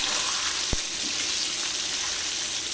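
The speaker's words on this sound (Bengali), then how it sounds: "আলুগুলোকে আমি দুবারে ভেজে নিলাম" Potatoes fry in a pan of hot oil, giving a steady, close hiss that runs the whole time, with one brief clack near the start.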